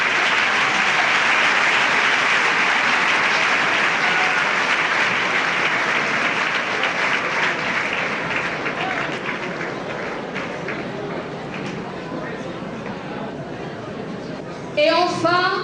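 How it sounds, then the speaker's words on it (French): Sustained loud applause from a large audience fills a university graduation ceremony in Djibouti, staying dense and steady before gradually thinning, with a few distant voices breaking through near the end. "Il mérite beaucoup d'applaudissements."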